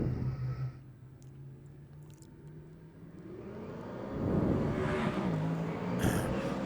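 A superstock race car on the Huntly oval track accelerates hard, its engine note swelling from a steady drone into a loud, rising roar as the car approaches, with other engine noise behind it.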